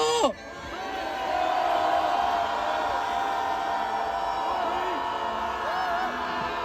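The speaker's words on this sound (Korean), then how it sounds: "마지막 대통령께 함성 지르고 마칩시다." A large street protest crowd at a rally against a presidential impeachment roars with sustained shouting and cheering, many voices blended into a loud continuous wall of yells that swells after a brief opening cry.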